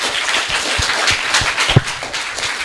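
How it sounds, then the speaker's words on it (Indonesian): A small group claps for a few seconds, scattered hand claps overlapping into light applause, fairly close. "Tepuk tangan untuk Reno lah ya."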